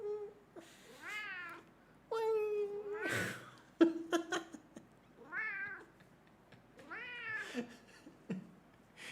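A pet cat meows repeatedly in drawn-out, complaining cries, several rising and falling calls spread across the stretch with brief pauses between them, close and fairly loud.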